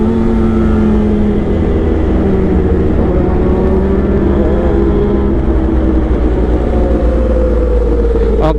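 A Kawasaki H2 supercharged motorcycle engine idles steadily close by, a deep continuous rumble with a gradually rising tone, ending in a short sharp rev or click at the very end.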